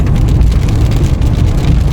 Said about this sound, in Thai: ฝนตกตอนนี้ฝนตกค่ะ ฝนที่ในเมืองตกค่ะตอนนี้